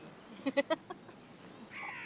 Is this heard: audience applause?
no